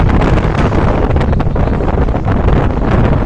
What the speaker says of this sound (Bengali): সমুদ্রের তাজা বাতাসগুলো খুব ভালো লাগতেছে।